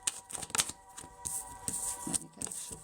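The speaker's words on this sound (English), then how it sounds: "Let me get a shuffle in first." Tarot cards being shuffled by hand in a quiet room, a run of crisp riffling and soft slapping bursts spread across a few seconds, close and fairly faint, with no talking.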